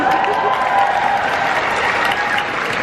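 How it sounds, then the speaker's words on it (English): A crowd applauds steadily at San Diego Comic-Con 2017, dense clapping that holds for a few seconds and then eases slightly toward the end. "I think that deserves a round of applause."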